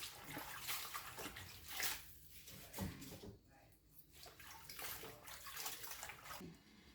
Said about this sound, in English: I like to rinse it 2 times also to make sure that it is clean